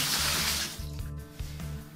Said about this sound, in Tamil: இந்த தண்ணியை அப்படியே நம்ம அதுல எம்டி பண்ணிக்கலாம்.